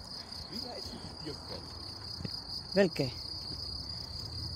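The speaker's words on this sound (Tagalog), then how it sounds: "Maririnig nyo yung huni ng kuliglig." Crickets chirp in a steady, high, continuous trill on an Austrian mountainside near a hilltop church, with a brief spoken word in the middle.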